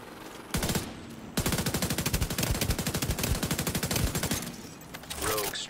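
Rapid automatic fire from an FAL rifle in The Division 2, tuned to about 740 rounds per minute, crackles in two long sustained bursts after a short opening volley, loud and close with no talk over it.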